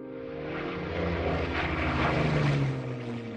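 A World War II de Havilland Mosquito, the Oboe navigation variant, passes overhead with a steady piston-engine propeller drone that swells to a peak and fades slightly, loud and close throughout with no voices.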